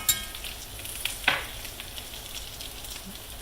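Potatoes fry in a pan for a country breakfast, giving a soft, steady sizzle with a few sharp clinks of a utensil near the start, fairly quiet and without talk.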